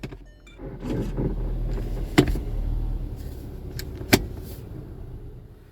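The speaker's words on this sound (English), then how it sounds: "With the car on a level surface and the engine running, I cycle through all the gears" A VW Golf engine idles with a low steady rumble, broken by two sharp clicks or clunks partway through as its Aisin 6-speed automatic transmission is cycled through the gears.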